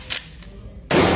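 A shotgun fires 11-aught buckshot at a shooting range, two sharp reports, a faint one first and then a loud close blast.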